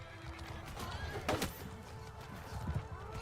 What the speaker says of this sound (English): At least this horse died.